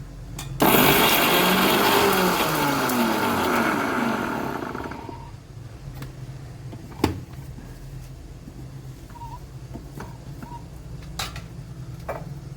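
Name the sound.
mixer grinder grinding spices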